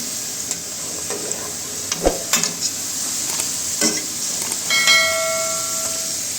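Potato French fries frying in hot oil, a continuous hiss broken by several sharp metallic scrapes and clinks of a spatula or slotted spoon against the pan.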